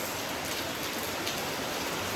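Rain falls steadily outdoors during the monsoon, a dense even hiss of drops with no pauses or talk over the short stretch.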